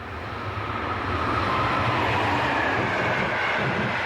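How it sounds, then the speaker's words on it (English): German locomotive 101047 hauling EC 63 from München to Budapest passes by on a line beside new track construction, a loud steady rumble and roar of the train rolling past close at hand. "Here German 101047 passes by with train EC 63 from München to Budapest."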